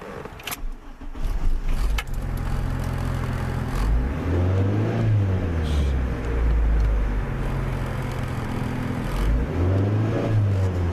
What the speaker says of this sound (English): Gas it a little bit.